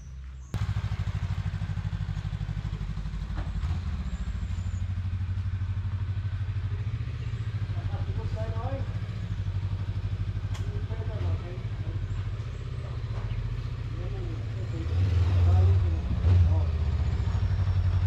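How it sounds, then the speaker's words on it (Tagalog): A motorcycle engine rumbles and revs steadily while riding uphill, climbing in effort near the end, with faint voices and occasional clatter underneath. "Unang akyat ng motor natin dito sa bahay dahil dito patag na."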